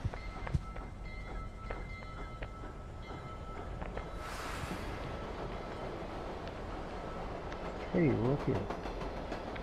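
A moving train in the physics puzzle game Human Fall Flat rumbles on steadily with scattered clicks and clatter, while a person speaks briefly and a short vocal burst lands near the end.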